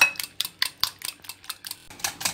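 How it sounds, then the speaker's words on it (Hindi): Eggs whisked by hand in a bowl, a quick run of about a dozen sharp, bright clinks and taps from the utensil hitting the bowl's side, close up with no talk. "और इस अंडों को हम फेंट लेंगे।"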